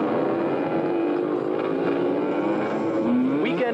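Motorcycles from a biker club rev their engines during a 1988 Christmas parade in Berkley, a steady, loud, continuous engine roar with rising pitch near the end, no talking.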